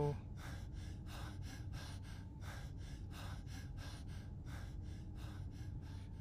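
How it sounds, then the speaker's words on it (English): Loud, rhythmic panting from a video game character, quick breaths repeating steadily and close for several seconds with no talking. "I think he's like panting is a little too loud"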